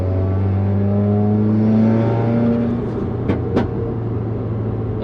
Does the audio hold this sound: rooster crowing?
no